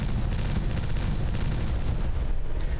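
Dense, continuous rumbling explosions from the Timberborn video game, a heavy low-end barrage of overlapping blasts and crackling bursts running without pause throughout, loud and close with no voices.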